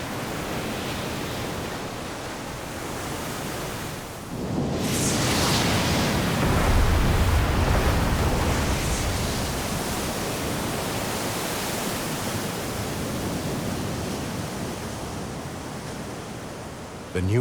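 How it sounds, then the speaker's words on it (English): Ocean waves crash against the ramparts of a volcanic island, a broad roaring surge that builds suddenly and then holds as a loud, sustained wash of churning surf. "The power of the waves collides against the ramparts of the volcano."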